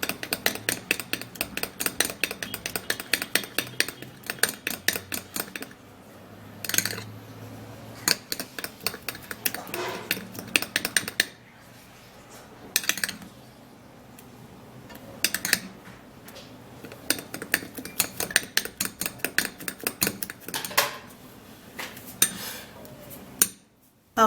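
A spoon stirs and scrapes an okra and banana face mask in a bowl, giving a steady run of close clinks and taps on the dish with a few brief pauses.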